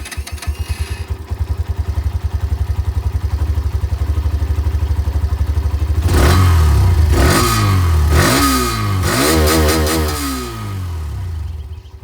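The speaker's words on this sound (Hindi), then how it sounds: "तो ये दोस्तों, एक्सट्रीम की जो आवाज़ है वो आप लोगों ने यहाँ पर सुन ली है।" A 2025 Hero Xtreme 125R motorcycle idles with a steady thumping exhaust, then revs hard several times in quick bursts, loud and close.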